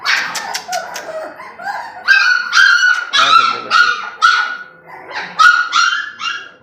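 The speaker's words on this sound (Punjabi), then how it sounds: "ਇਹ ਗੁਲਟੇਰ ਬੱਚੇ ਆ, ਇਹਨਾਂ ਦੀ ਮਾਂ ਵਾ, ਦੁੱਧ ਪਿਲਾ ਰਹੀ ਇਹਨਾਂ ਨੂੰ।" Gultair puppies about one month old whimper, yip and bark in a busy, continuous chorus while nursing from their mother.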